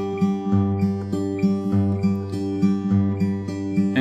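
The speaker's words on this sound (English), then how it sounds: "But on guitar, that would sound like this." Fingerstyle acoustic guitar plays a song, a steady picked pattern of alternating bass notes and treble strings in an even, gentle rhythm, close and alone without voices.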